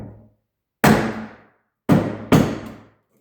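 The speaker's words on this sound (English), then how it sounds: "I'm going to adjust the tab slightly with a hammer." Three hard hammer taps on a metal tab of a Duramax truck grill: one single strike, a pause, then two quick blows close together, loud and close with short ringing decays.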